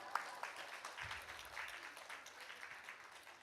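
A Sunday worship congregation claps in celebration, a soft, steady patter of many hands heard from a distance with no talk over it.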